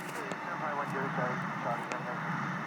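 An Airbus A380-800 taking off in the flight simulator game Infinite Flight, a steady, dense engine roar holding at an even level with faint tonal whines rising through it.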